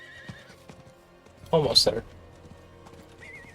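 A horse in the video game Diablo 4 clip-clops and gives a loud whinny midway, with someone talking softly over the scene.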